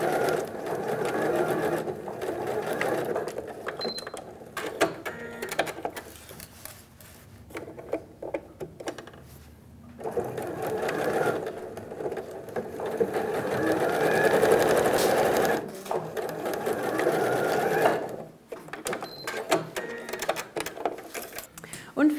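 A sewing machine stitches SnapPap fabric for a bread basket, running in steady whirring bursts separated by short pauses, close and clear, with a voice speaking between runs.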